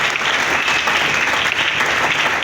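A church congregation at a Sunday service claps together in sustained, dense applause, loud and close for the whole moment, with a faint murmur of voices underneath.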